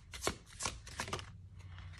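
Tarot message cards being shuffled close by, a few quick papery riffles and slides in succession over a low background hum, with no talking.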